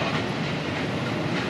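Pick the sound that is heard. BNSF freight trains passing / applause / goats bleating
BNSF freight trains passing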